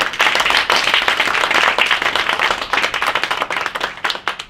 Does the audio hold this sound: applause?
yes